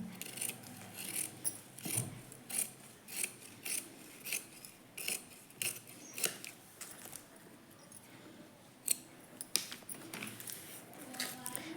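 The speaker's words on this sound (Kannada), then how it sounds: "ಇವಾಗ ಕಟಿಂಗ್ ಮಾಡಿಬಿಡೋಣ ಇಲ್ಲಿಗೆ" Scissors snip through fabric for elbow puff sleeves in a steady series of close, crisp cuts, roughly one every half second, with a faint background hum.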